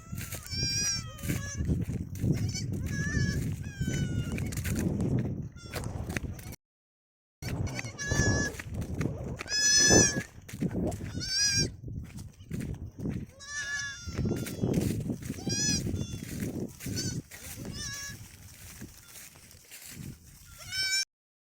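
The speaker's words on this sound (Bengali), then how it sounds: "এদের চিৎকার প্রচুর চিৎকার করছে এই ছাগলগুলো" Several young goats bleat loudly and repeatedly, overlapping cries close by, nearly continuous with a brief pause, over faint background noise.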